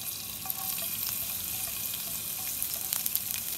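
Steady, dense sizzling of garlic and ginger frying in hot oil, fairly loud and continuous, with a few faint clinks, no talking.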